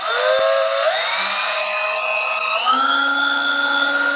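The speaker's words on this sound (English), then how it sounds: "to drill a very small 1/16 inch hole for a couple retainer screws" A small drill bores 1/16 inch pilot holes for retainer screws into the wooden base of a turned pepper mill. It gives one steady, loud, close whine whose pitch shifts partway through, with no voices.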